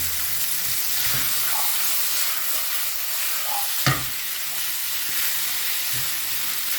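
Spaghetti aglio olio with garlic, chili and basil stir-fried in a pan gives a steady close hissing sizzle with occasional utensil scrapes and a brief knock near the middle.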